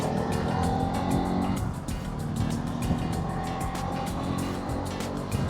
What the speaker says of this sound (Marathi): कॅब इथं नुसत्या कॅब आहेत, तुफान कॅब आहेत, तुफान.